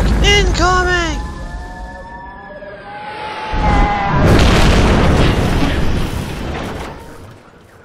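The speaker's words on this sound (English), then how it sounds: "Target acquired. Tactical nuke incoming!" A tactical nuke detonating in Splatoon 3, opening with rising synth tones and a descending whistle before a loud, rumbling blast that roars and lingers for several seconds, close and dominant.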